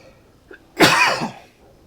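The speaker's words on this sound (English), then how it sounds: "got a lovely cough" A single loud, harsh cough bursts out close by, preceded by a small throat sound, then trails off into quiet.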